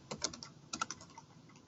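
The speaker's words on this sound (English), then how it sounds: "we can probably go on ahead and type his name in" Quiet, close tapping on a computer keyboard, a short burst of several keystrokes, a brief pause, then a few more soft taps.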